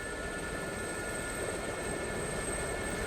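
Gazelle helicopter in the DCS flight simulator, a steady whining turbine and rotor drone with a high tonal whine on top, continuous and fairly even, no voices.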